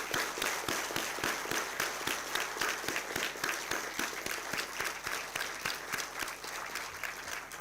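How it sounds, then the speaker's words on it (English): An audience at a School of Engineering welcome event claps steadily for the parents, a dense, sustained applause of many hands with distinct sharp claps throughout, moderately loud and without speech. "Can I ask all of you to join me in taking them a heartfelt and huge round of applause to your parents?"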